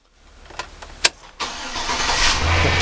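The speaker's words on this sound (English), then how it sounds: "And now we gotta crank it up, turn it off really fast." A Chevrolet Silverado engine cranks with a few sharp starter clicks and whirs, then catches and settles into a steady, close idle, heard alone with no talk.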